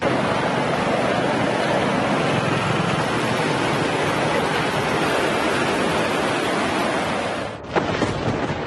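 The swollen Gowri river at Sarve near Puttur in Dakshina Kannada rushes in flood after a week of heavy monsoon rain, making a loud, continuous roar that drops briefly near the end.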